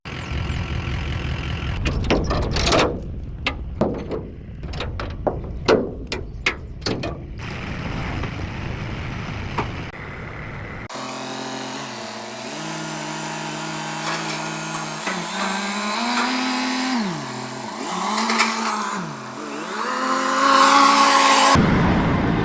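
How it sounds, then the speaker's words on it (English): A tractor coming off a trailer: first sharp metallic clanks and knocks from ramps and chains, then the tractor's engine idling and revving up and down nearby before it cuts off abruptly. "Tractor number 1, off the trailer."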